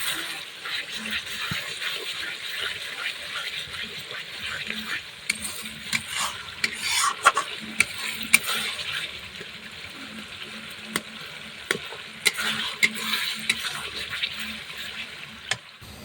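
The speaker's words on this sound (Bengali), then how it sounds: "এখন এটা মশলাটা কষাচ্ছি" Spice masala with onion and turmeric frying in a pan while being stirred, a steady sizzle under irregular scraping strokes and a few sharper clinks.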